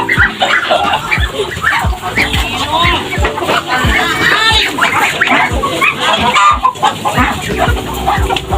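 Chickens cluck and squawk nearby at a poultry egg farm, a busy overlapping chorus of calls with people talking in the background.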